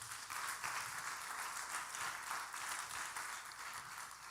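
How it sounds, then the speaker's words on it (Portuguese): A church congregation applauds in steady, sustained clapping that sounds faint and somewhat distant throughout, with no voices over it. "Dê um aplauso a Ele bem forte."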